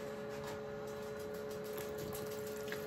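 Steady rushing hiss of water hitting a hot pan of cooking mince with mushrooms, continuous and close, a constant sizzling wash with a faint tonal hum underneath, no talking.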